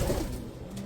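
A pigeon kept as a pet coos softly and briefly, low and muffled, against a steady background hum, with no one speaking.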